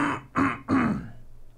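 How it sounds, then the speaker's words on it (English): Three quick, rough throat-clearing bursts in a row, close and fairly loud, the last trailing off into quiet. "I have to clear my throat"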